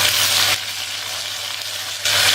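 Tomato, garlic, green chili and onion sauté in a hot pan for an eggplant kadayal, giving a steady broadband sizzle that eases briefly in the middle before swelling again, with no voices.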